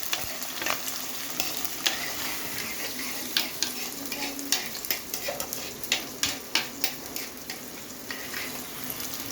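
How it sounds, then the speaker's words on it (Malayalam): Shallots frying in coconut oil give a continuous crackling sizzle, joined by repeated sharp spatula scrapes that quicken toward the end, heard up close without speech. "ചുവന്നുള്ളി ഇതെല്ലാം കൂടെ അങ്ങോട്ട് അതിനകത്തോട്ട് ഇട്ട് കൊടുക്കുക. ഒന്ന് മൂപ്പിച്ചെടുക്കണം."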